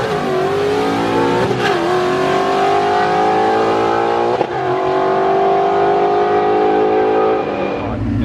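A manual S550 Mustang with a Gen 3 Coyote engine revs hard and accelerates, its loud, rising engine note broken by a couple of quick gear shifts, close and continuous throughout.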